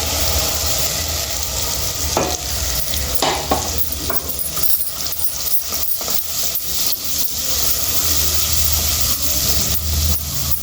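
Ground masala paste with water fries in a pan for gutti tomato, sizzling loudly and continuously while a spoon stirs and scrapes in uneven strokes close by.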